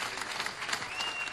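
An audience at a political rally applauds, brief steady clapping heard at a distance and fairly faint, with crowd murmur underneath.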